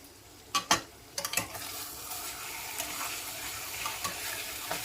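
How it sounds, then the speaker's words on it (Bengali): Tender pointed gourd with poppy seeds and sugar fries in a pan, two or three brief clinks of gentle stirring early on, then a faint, steady sizzle continuing alone. "খুব হালকা হাতে নাড়াচাড়া করতে হবে"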